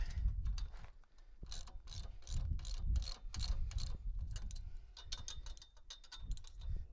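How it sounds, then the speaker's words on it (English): Ratchet and 9/16 socket snugging bolts on a trailer dolly, rapid clicking pawl strokes repeating steadily for several seconds, close and continuous over low background rumble. "Using our 9/16 wrench and our socket, we're just to snug these guys up."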